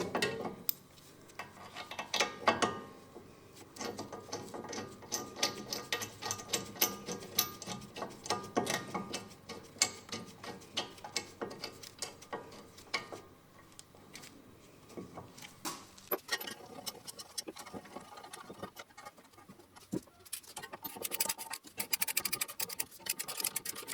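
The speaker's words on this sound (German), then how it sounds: "Die beiden Schrauben werden mit einer 18er Nuss und 110 Newtonmeter festgezogen." Ratchet with an 18mm socket tightening brake caliper carrier bolts on a BMW E87, a steady run of close, fairly quiet clicking and scraping metal sounds with no speech.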